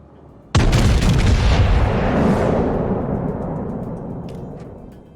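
A single heavy warship gun salvo booms in World of Warships, a sudden loud blast followed by a long rolling rumble that slowly fades over several seconds.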